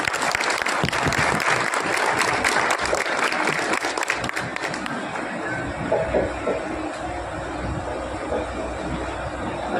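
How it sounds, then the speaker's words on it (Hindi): A crowd at a BJP political meeting in Delhi claps loudly and steadily to welcome guests, then the applause thins and fades into a lower murmur partway through. "जोरदार ताली से स्वागत किया जाए।"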